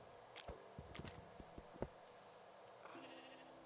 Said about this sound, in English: it's just a random goat that can't hit stuff